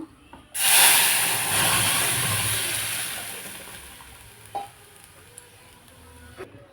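Cooked lentils poured into hot oil with black cumin for a Dhakai paratha meal, bursting into a loud hiss that slowly fades to a gentle sizzle, with a couple of utensil clinks.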